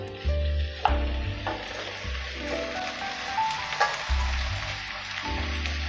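Ash gourd frying in a pan for a Bengali prawn curry, giving a steady close sizzle with a few stirring scrapes and knocks against the pan throughout.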